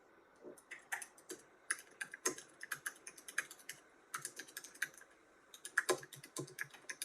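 Fingers tap a computer keyboard in quick irregular bursts with short pauses, close by and fairly quiet, with no voices.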